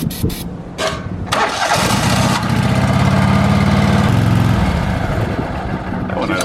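The engine of a Vermeer MX240 mixer with a repaired pump impeller cranks and catches, then runs loud and steady close by, its throbbing drone filling the whole stretch.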